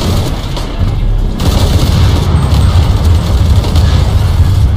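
A helicopter explodes in Shadow of the Tomb Raider, a loud, sustained rumbling boom with crackling debris, dense and continuous throughout, with no voices.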